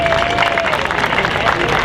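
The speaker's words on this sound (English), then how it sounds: "A round of applause for all of them." An audience at a cosplay contest during a Japan festival in Orlando claps and cheers, a dense crowd applause with a voice heard over it.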